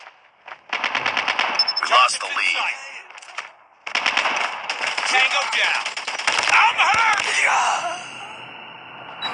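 Rapid automatic gunfire from a Call of Duty match rattles in long loud bursts, broken by a short pause, with a player's voice talking over the shooting.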